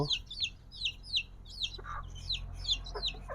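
A chicken clucking nearby, with quick, repeated high-pitched calls in a steady rhythm over faint background hum.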